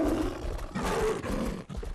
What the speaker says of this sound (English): Ferocious lion! Oh, he sounds hungry, too.